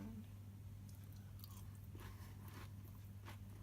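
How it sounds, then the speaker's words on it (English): A man chews cornflakes, with faint, crisp crunches and biting sounds repeating irregularly against a steady low hum in a quiet room. "ASMR videos of Dad eating"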